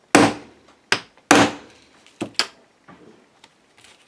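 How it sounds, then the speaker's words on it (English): Hammer striking a steel letter stamp into a soft vegan leather tag on a crafting bench: a handful of sharp, close, separate taps with uneven spacing, the first few loudest, then lighter follow-up taps. "I'm bringing in my steel stamping set and a hammer and my tag, and we'll see if this is soft enough to accept a letter."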